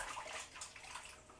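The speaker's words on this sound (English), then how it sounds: "I'm just going to wash my hands" Hands being washed under a running kitchen tap during pastry making, a brief, soft steady splash of water with no talk.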